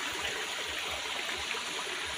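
Creek water flows steadily through a diverted channel, a continuous close rushing wash with no pauses and no voices.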